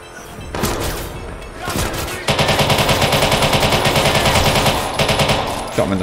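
Rapid automatic gunfire from the video game Watch Dogs 2, loud and sustained in dense rattling bursts with brief pauses, a few sharper shots and booms near the start.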